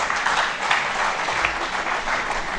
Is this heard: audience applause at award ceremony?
yes